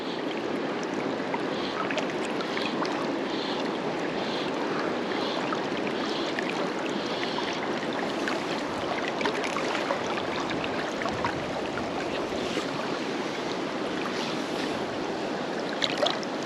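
River water flowing through a thigh-deep pool on the South Tyne near Alston, a steady close rushing wash with small splashes and no one speaking.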